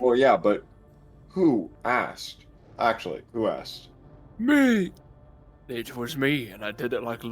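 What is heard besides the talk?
No everyday noise stands out behind the speech.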